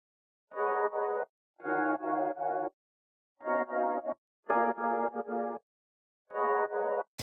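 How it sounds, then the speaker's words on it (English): Printed, sidechained funky electric piano layer with dead space cut out, playing short chord stabs in separated bursts with silent gaps between them. "So I took that E-piano that we had earlier, and then I printed it, sidechained it, and cut a bunch of dead space out."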